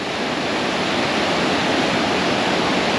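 Ice-cold mountain stream rushing steadily along the Pamir Highway in Tajikistan, a loud, dense, unbroken wash of water close by with no voices.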